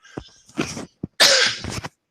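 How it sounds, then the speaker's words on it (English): A few harsh coughs close to the microphone, a couple of short ones followed by one louder, longer cough. "Sorry, hopefully that cough didn't sound too loud too"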